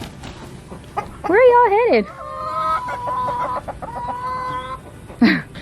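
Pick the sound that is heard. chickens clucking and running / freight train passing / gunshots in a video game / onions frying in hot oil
chickens clucking and running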